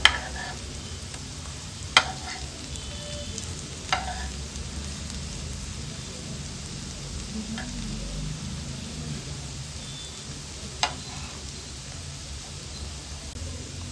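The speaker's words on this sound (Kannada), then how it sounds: "ಒಂದು ಚಮಚದಷ್ಟು ತುಪ್ಪ ಇದ್ರೆ ಸಾಕು ಇದು ಶಾಲೋ ಫ್ರೈ ಮಾಡ್ಕೊಳ್ಳೋಕ್ಕೆ." Spiny gourd shallow frying in a spoonful of ghee, a steady soft sizzle with a few sharp stirring clicks and scrapes from the pan, close by with no talking.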